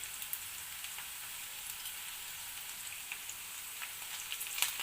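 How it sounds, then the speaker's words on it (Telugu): Lentils (dals) fry in oil in a pan while making a savory upma-like dish, giving a faint, steady crackling sizzle with scattered tiny pops and no talk. "ఈ పప్పులు కూడా ఫ్రై అయ్యేంత వరకు ఉండనియాలి"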